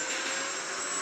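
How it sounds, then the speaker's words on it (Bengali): A helicopter in the video game Granny Chapter 2 gives off a steady, dense whooshing engine roar that stays loud and even throughout the brief moment, with no voices. "চলো এই জায়গায় আমরা হেলিকপ্টার চালাচ্ছি"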